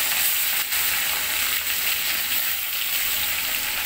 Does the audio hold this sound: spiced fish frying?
yes